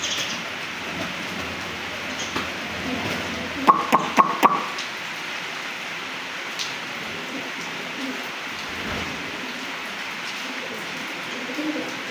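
Pigeons coo softly in a loft while rain falls steadily around them, and a quick burst of four sharp knocks cuts through near the middle.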